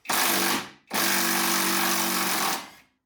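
Impact or power tool with a 3/4 inch socket spins a rear shock nut off the unibody side during a 3.5-inch lift kit install on a Jeep, two loud close whirring bursts, a short one then a longer one, with no talk.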